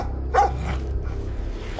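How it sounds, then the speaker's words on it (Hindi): In a horror story, a dog lets out a single sharp bark early on, followed by a low, continuous rumbling background. "जोर से भौंकता है"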